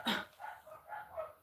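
A dog gives a sharp bark followed by several softer, yelping barks in an uneven rhythm, fairly faint and at a moderate distance, with no talking.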